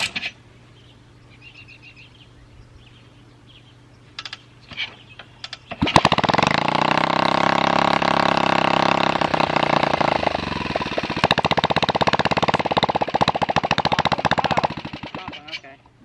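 A 1967 Sears Gilera 106ss barn-find motorcycle, its carburetor just repaired, kicks over with a few sputters, then bursts into a loud, close, rapid single-cylinder buzz that keeps running and changes pitch as the throttle shifts.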